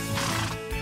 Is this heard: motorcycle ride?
no